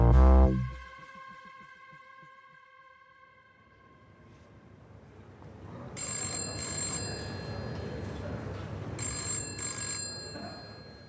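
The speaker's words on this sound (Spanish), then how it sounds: "Suena el teléfono y el inquilino de la habitación 219 no sabe si lo está soñando" A telephone in hotel room 219 rings with bright, repeated bell bursts over a low rumbling ambience, each ring sounding twice with a pause between.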